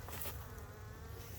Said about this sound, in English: That's still a box of bees